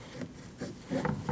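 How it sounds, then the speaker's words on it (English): A rag rubs clean the brake master cylinder cap and the area around it on a 2013-2019 Ford Escape, giving soft, quiet scuffing strokes in a few short bursts. "you want to clean off the cap and around it so nothing gets in when you remove your cap"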